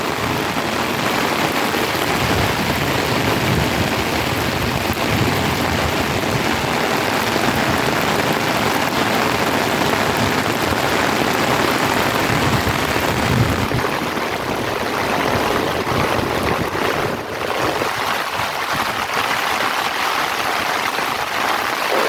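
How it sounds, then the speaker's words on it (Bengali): Heavy rain pours steadily and densely throughout, a loud continuous hiss of drops on surfaces with no voices. "দেখেন কিভাবে বৃষ্টি হতেছে"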